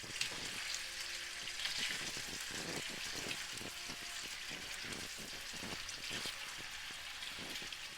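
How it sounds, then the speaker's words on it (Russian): Beef, lamb or chicken liver frying in vegetable oil in a pan over medium heat gives a steady, close sizzle with crackling pops that runs through the whole stretch. "И теперь эту печень я отправляю на сковородку с растительным маслом"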